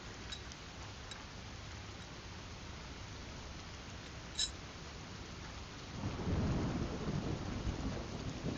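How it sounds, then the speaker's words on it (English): Recorded rain and thunder play as background ambience: a steady, soft rain hiss throughout, a single small crack near the middle, and a low rolling thunder swell building toward the end. "I also have rain sounds playing today"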